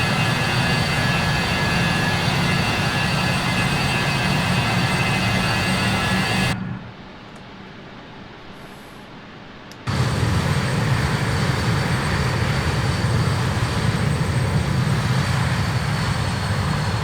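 Steady, loud jet-airliner engine roar inside a flight simulator game while climbing through 5,000 feet after departing Christchurch, briefly cutting to near silence for a few seconds before the constant drone resumes.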